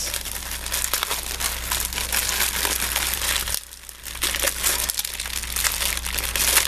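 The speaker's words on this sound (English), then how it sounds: "So this looks like tissue paper." Tissue paper from a thrift craft haul crinkles and crumples continuously close by, a dense rustling texture with a brief pause midway.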